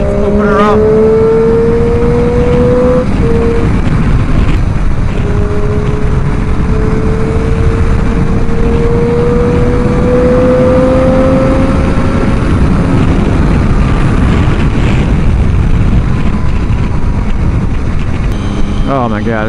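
A motorcycle accelerates hard on a highway, its engine note climbing in long rising sweeps over steady loud wind roar, with traffic nearby.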